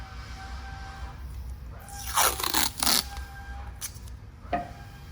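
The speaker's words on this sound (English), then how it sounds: "What I like to do is put a piece of tape so it's easy to see." A strip of tape ripped off a roll in a couple of quick, raspy pulls, then pressed down, close by in a quiet garage while working on a 1969 Ford F100 with a Crown Vic swap.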